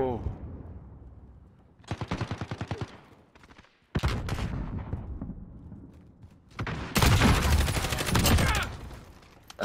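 Loud machine-gun fire rattles in rapid automatic bursts during Call of Duty Modern Warfare multiplayer, with quieter gaps between the volleys and an intense sustained stretch near the end, while a voice talks in between.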